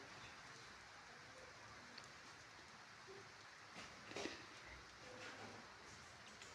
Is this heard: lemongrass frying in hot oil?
no